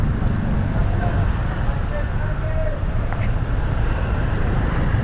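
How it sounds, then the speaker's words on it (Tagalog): Continuous low roadway rumble from passing vehicles in Bacoor and Las Piñas traffic fills the scene, steady and fairly loud, with a brief motorcycle engine whine partway through. "Ngayon traffic naman."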